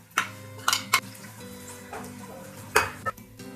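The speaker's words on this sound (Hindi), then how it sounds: "अब इसमें हम ऑयल डालेंगे, हाफ कप ऑयल गर्म हो गया। अब इसमें डालेंगे हम प्याज," Onions hit half a cup of hot oil in a pot, raising a soft sizzle with several sharp clanks and scrapes of a stirring spoon against the metal, close up.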